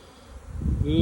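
Dense buzzing of many honeybees close by at the hive, a steady drone that swells louder within a second.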